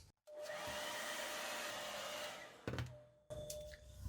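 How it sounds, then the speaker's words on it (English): A hairdryer blows steadily on tape over a mug, a constant whooshing hum that cuts off briefly and restarts, then stops and runs again near the end. "I then use my hairdryer to activate the tape"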